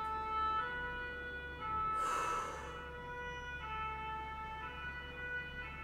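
A police or fire engine siren passes outside, faint and distant, with steady stepping tones and a brief breathy rush of noise midway.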